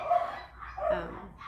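A dog barks in short bursts, fairly close, with a second round of yips following after a brief pause.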